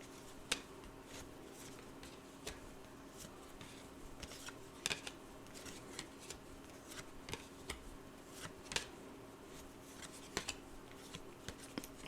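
A tarot card deck is bridge-shuffled by hand. The riffles come as repeated quiet clicking and flicking bursts, with a few sharper snaps, set against a faint steady hum and no speech.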